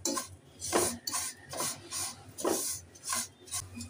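Lachha semai vermicelli being stirred and fried in a pan over low-medium heat, with quiet, rhythmic scraping and clinking of a utensil against the pan in repeated strokes, fairly faint and close.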